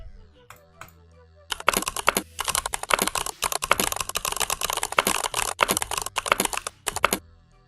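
Rapid, continuous typing on a mechanical keyboard fitted with Crystal Purple switches, dense crisp clicky keystrokes running for several seconds after a few scattered presses, close and loud with no talking.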